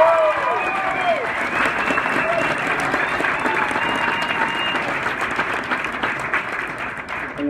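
Concert audience at the Birchmere bursts into sustained applause, a dense wash of clapping and cheering from a crowd that holds steady throughout, with a few whoops rising above it.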